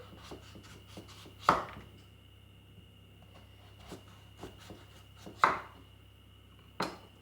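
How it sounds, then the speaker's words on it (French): A knife cutting into a vegetable on a board until it reaches the seeded section, faint scraping strokes broken by a few sharp, louder chops, set against a low steady hum. "On coupe jusqu'à ce qu'on arrive à la partie un peu plus large, là où il y a les graines."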